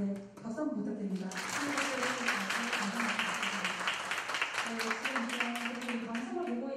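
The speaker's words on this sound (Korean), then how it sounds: "박수 한번 부탁드립니다." Audience applause at a school orchestra's regular concert in a hall, a dense burst of clapping that swells and then thins out, with a voice talking over it throughout.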